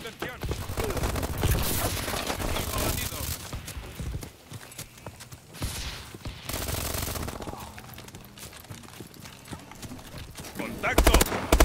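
Gunfire in the video game Call of Duty: Advanced Warfare, with rapid bursts of automatic fire and sharp impacts mixed with game effects while players talk over the action.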